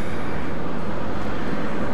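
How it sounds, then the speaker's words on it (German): A train pulls in with a steady broadband rumble and rolling rail noise, fairly loud and continuous with no voices. "Der Zug ist da."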